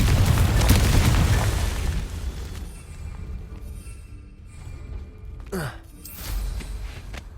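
A Confringo fire curse explodes in Hogwarts Legacy, opening with a loud booming blast that rumbles and fades, followed by softer game effects and a brief whooshing sweep.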